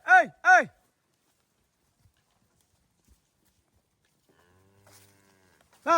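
Cattle on a Colorado ranch during fall ranch work call out, with two loud close moos at the start and another at the end, separated by near silence with faint distant movement.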